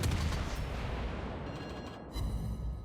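World of Warships naval gunfire during a battle with a Z-52 destroyer: heavy deep booms and rumbling salvos, loud at first, then a brief lull before another blast.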